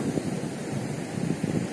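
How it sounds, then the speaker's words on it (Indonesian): Waves breaking repeatedly on Gandoriah Beach on a gloomy, misty evening, with wind buffeting the microphone, giving a constant roaring surf with low gusty rumbles and no voices. "Ombak terus menerpa pantai berulang dan berulang, sementara angin selalu bertiup"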